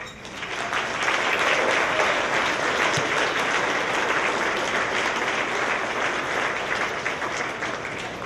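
Sustained audience applause at an awards ceremony, rising quickly and holding steady at a loud, dense level for several seconds as a speaker is welcomed.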